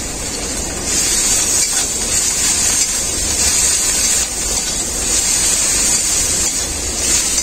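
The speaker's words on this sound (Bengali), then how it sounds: "আদা রসুনটা খুব ভালো করে ভেজে নিয়েছি" Ginger and garlic paste fries with onions in a pan, producing a loud, steady spraying sizzle that holds throughout and swells slightly after the first second.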